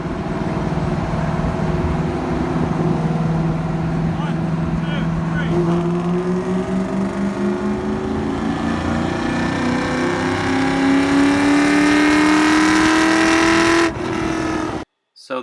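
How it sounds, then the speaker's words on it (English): A 2003 Ford Mustang Mach 1, zinc yellow with long tube headers, throttle body and intake, pulls hard through third gear on a highway, its engine note climbing steadily in pitch with a brief shift-like break before cutting off. "we decided just to do a third gear pull with them at kind of a lower speed, just so the cars could go through the RPM range"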